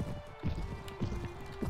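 Horse hooves clip-clop in a video game during fancy horse riding, a steady trotting rhythm of hoof beats at moderate volume with faint game ambience behind.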